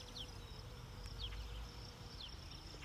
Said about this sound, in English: Oh, it's even the greenback bee.